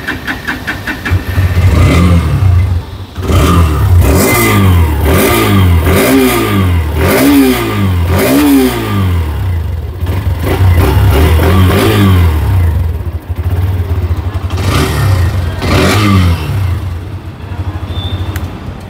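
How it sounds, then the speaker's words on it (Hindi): A Hero Xtreme 125R 2024 125cc motorcycle revs repeatedly from idle, its exhaust note rising and falling in a series of sharp throttle blips close by and loud, then settling back to a steady idle toward the end. "चलिए चलते इस गाड़ी के एग्जॉस्ट नोट आपको जल्दी से मैं आपको"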